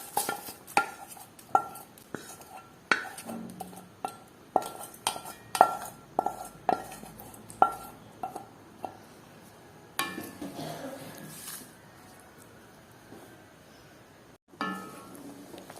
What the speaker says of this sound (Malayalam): എല്ലാം കൂടി നന്നായിട്ടൊന്ന് മിക്സ് ചെയ്ത് കൊടുത്തിട്ടുണ്ട്